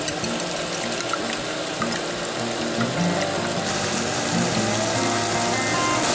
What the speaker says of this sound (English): Sorry, my kettle's going over here.